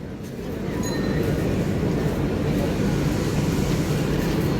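Steady low rumble of a Sealdah–Ranaghat AC local train heard from inside, a continuous even drone with faint tonal whines near the start.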